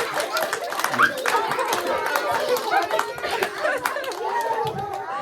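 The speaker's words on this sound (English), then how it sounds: "Give these teachers a big clapping hand of applause" A room full of teachers chatters over scattered, uneven clapping, busy and close, with no clear burst of sustained applause.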